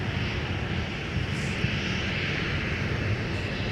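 American Airlines airliner taxiing out toward runway 17 at a snowy winter airport, a steady broad engine rumble and hiss holding even and moderately near for the whole stretch.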